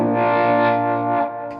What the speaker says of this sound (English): I got this chorus on still